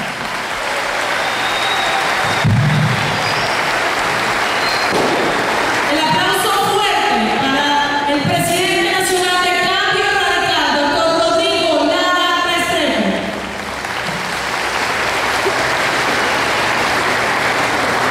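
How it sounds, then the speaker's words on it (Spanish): Applause from an audience at a political rally in the Colombian town of Oporapa, steady broadband clapping for most of the stretch, with a voice speaking or calling out over it through the middle section. "El aplauso"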